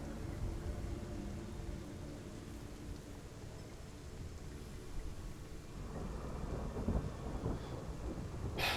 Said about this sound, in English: that storm actually arises